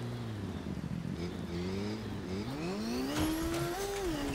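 An engine revs up in a Fortnite Zero Build solos match, a motorcycle in the game, its pitch climbing steadily and loudly before levelling off, with no voices over it.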